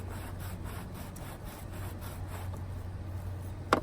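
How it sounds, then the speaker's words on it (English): A knife blade rasps back and forth through a cut-resistant glove layer in steady, close sawing strokes over a low background hum, ending with a sharp snag. "I gotta tell you, this is pretty good sawing action."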